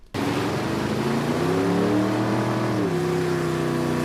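A car speeds along a city street, its engine a steady, loud drone with rising and shifting pitch, close by and continuous with no talk.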